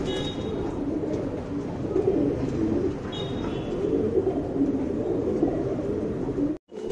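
A male pigeon coos nearby in soft, low, rolling phrases that repeat steadily, ending in a sudden cut.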